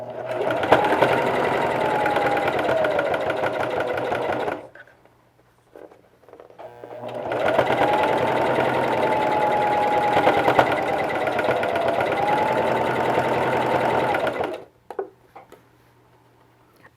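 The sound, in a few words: sewing machine stitching a fabric face mask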